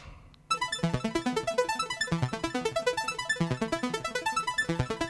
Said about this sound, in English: And then the Jupiter comes in with the arpeggio.